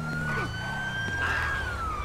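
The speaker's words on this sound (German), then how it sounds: "Also, Sirene an und ab geht's." Police car siren in the GTA V game with the LSPDFR police mod, a steady rising and falling electronic wail over a low engine rumble, fairly faint and continuous without talk.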